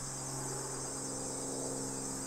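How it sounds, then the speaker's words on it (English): Dense, steady buzzing drone of cicadas at an abandoned water park, loud and unbroken throughout with no voices or pauses. "I'm sorry if there is a lot of cicada noise."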